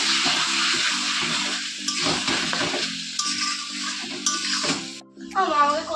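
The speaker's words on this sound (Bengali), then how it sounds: "এবার আমি আলুগুলোকে দিয়ে দেবো, আলুগুলো দিয়েও আবার একটু কষাবো।" Potatoes and meat frying together in oil in a home kitchen pan, sizzling loudly while being stirred and scraped, with people talking over the cooking and a brief clatter near the end.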